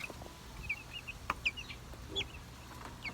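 Chickens cluck softly in short, scattered calls against a quiet outdoor background, with no talking.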